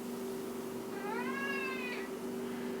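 A single rising-and-falling cat meow, clear and close, rides over a steady background hum in a kitchen.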